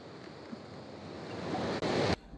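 Sea waves wash steadily onto a beach shore in a broad, continuous rush that swells louder toward the end, with a brief dip and then a sharp cutoff, and no voices.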